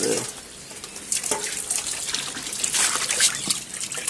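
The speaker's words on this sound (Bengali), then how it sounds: "জল এসছে জল পড়ছে এখানে" Water runs steadily from a tap in a home in the morning, a continuous splashing hiss with small trickles and drips, moderately close.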